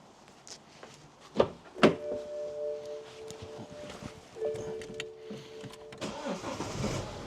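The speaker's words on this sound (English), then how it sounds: "I'll just start the car up." A car engine cranks and fires near the mic with two sharp bursts, settles into a steady idle, and catches again in a second start partway through, with no speech during a brake vacuum sensor repair.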